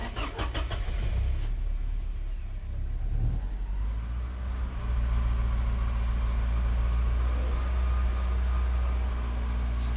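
A Porsche 944 engine cranks for a couple of seconds, catches and then runs roughly, its low uneven rumble continuing close by with no voices.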